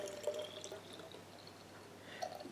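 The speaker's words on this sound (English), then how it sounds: "I'm going to add the distilled water to what I've already got in the bottle." Distilled water is poured into a bottle holding other face-wash ingredients, a faint, steady trickling stream with a few higher gurgling drips rising near the start and again toward the end.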